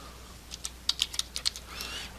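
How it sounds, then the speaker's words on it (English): Code being typed on a computer keyboard: a quick, close run of about eight light key clicks, faint and alone. "I'm gonna add a line break and click enter."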